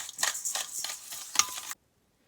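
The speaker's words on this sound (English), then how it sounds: "And then we're gonna give it a nice whisk." Egg and sugar are whisked in a bowl with a series of quick scraping, swishing strokes, fairly soft and close, stopping abruptly into silence.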